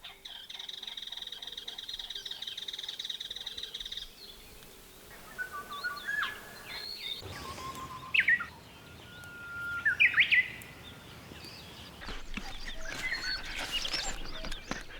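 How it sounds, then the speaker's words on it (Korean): Birds sing through a spring morning forest, with repeated chirps and whistled phrases rising over a quiet background, and a frog-like croaking trill in the opening seconds. "봄날 아침 목청 좋은 새들이 숲의 모든 기운을 깨웁니다"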